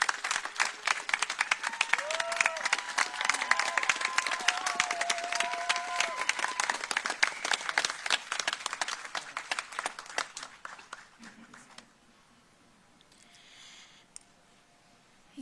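A large crowd breaks into loud, sustained applause welcoming Jennifer, a man's wife, onto a stage at a public event. Cheers and whoops ride over the clapping before it tapers off sharply and leaves near quiet.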